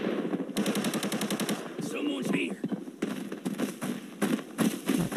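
Automatic gunfire in the Arena Breakout shooter game, with rapid bursts of rattling shots that stop and start over a busy game soundscape, while a player talks over the action.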